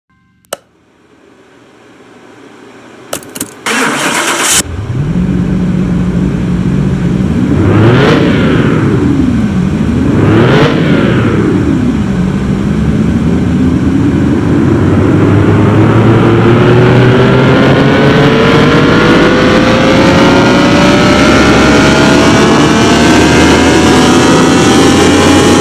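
Game car engine in Car Mechanic Simulator 2021 starts up and revs hard on a dyno test, with two sharp rev swells and then a steady climbing roar that stays loud and rising to the end, no talk.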